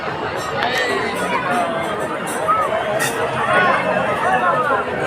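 A large crowd of devotees at the Maa Dhamrai temple fills the air with a steady, dense babble of overlapping voices, close and continuous throughout.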